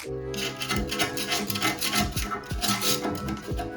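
Old wax residue gets scraped off a toilet flange in quick repeated rasping strokes, close and fairly loud, with a gritty rubbing texture and no talk.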